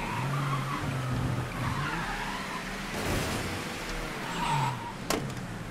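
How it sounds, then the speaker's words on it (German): Car tires spin and skid in the video game Mafia 3 on a car with worn tires and a shabby engine, a sustained squeal over a steady engine drone with a sharp knock near the end, no voices. "Wir können auch Reife durchdrehen."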